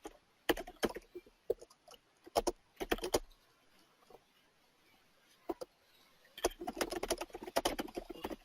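Computer keyboard keys tapped in quick irregular bursts while a message is typed, with pauses between clusters of clacks, fairly close and clear.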